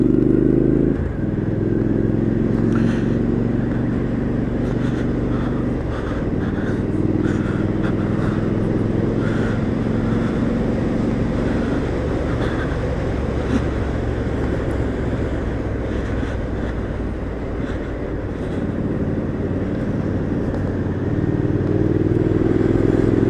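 2017 Triumph Street Scrambler motorcycle being ridden on a test ride, a loud continuous engine drone with wind rush and gear-change dips as it climbs through the revs, no talking.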